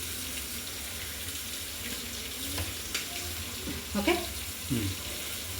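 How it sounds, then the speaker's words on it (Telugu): Brinjal fries in a pan with a soft, steady sizzle, broken by a few brief stirring scrapes, and a voice speaks briefly over it. "అన్ని వంకాయని ఇలా మంచిగా ఫ్రై చేసుకోవాలండి"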